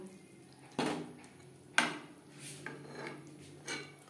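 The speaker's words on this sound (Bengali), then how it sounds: "গ্রেভির সাথে আলু চিকেন বেশ ভালো করে মিক্সড করে দেব" A spoon scrapes and knocks against a pan while potato chicken curry with gravy is stirred, giving several distinct clinks and rasping strokes spaced irregularly, fairly quiet and close.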